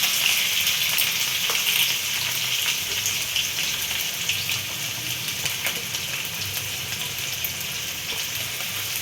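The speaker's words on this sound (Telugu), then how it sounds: "ఇవి బ్రౌన్ కావాలి, కొంచెం వేగాలన్నమాట పచ్చిమిర్చి ఆనియన్" Onion and green chili frying in hot oil, a steady bright sizzle with small pops and crackles running close and loud throughout, no voices over it.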